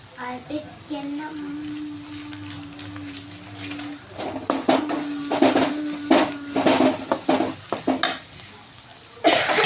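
Chana masala powder is stirred into frying onions in a pan, giving a steady sizzle. Then comes a run of scraping, clattering spoon strokes, close and fairly loud, ending on a sharp knock.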